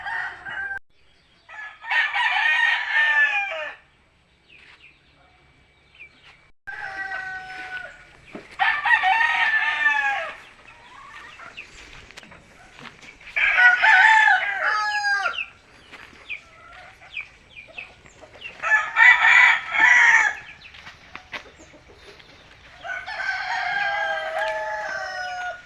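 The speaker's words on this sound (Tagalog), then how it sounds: "Yung mga alaga nating manok, may mga panglaban tayo dito manok" Roosters crow in repeated long calls, about six spaced bursts with quieter hen clucking between them, fairly near in an otherwise quiet farmyard.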